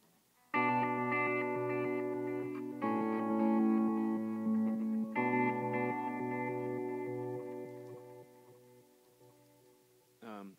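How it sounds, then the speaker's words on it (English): Sustained electric guitar chords through a reverse delay pedal wash in with swelling, backward-sounding echoes, three long phrases ringing out before a brief final strum. "I like to use it with a reverse delay."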